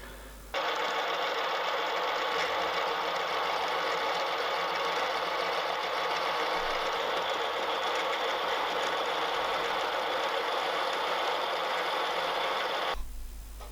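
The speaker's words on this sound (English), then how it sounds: "So the first job is just to square off the end with the end mill." End mill squaring off the end of a spiral feed screw, a steady loud whirring cut that runs unbroken for about twelve seconds before stopping abruptly.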